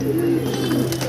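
A perched female pigeon coos softly indoors, one low throaty warble over a steady background hum, close by and brief.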